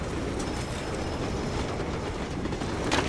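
A train rolls steadily in Lost Planet 2, a dense continuous rumble with faint rattling and clattering mechanisms, loud and unbroken with a brief brighter burst near the end; no voices.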